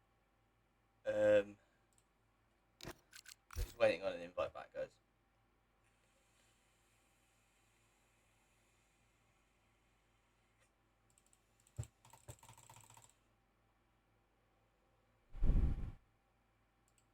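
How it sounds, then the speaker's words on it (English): Computer keyboard typing during a Formula 1 sim racing session, with short bursts of clacking keys separated by long quiet gaps, alongside brief spoken words. "Oh, keyboard sounds."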